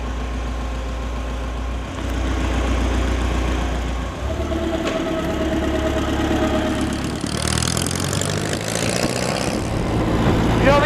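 A 1933 Indian motorcycle engine runs steadily and close by, a continuous low throbbing that rises in pitch and intensity toward the end, with no talk over it.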